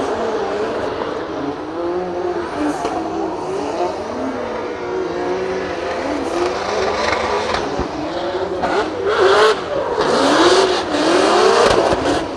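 Drift car on a solo practice run at a drift competition in Finland, its engine revving and wailing in repeated rising and falling surges, growing louder and harsher toward the end, with no talk.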